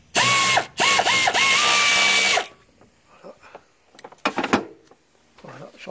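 A ratchet wrench removing a bolt during EGR valve removal on a Renault Scénic 2 130 hp engine: a loud, fast clicking ratchet burst for about two seconds, followed by quieter metallic handling clinks.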